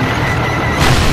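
A single heavy tank gun shot in a game booms low and broad across the whole clip, swelling louder near the end.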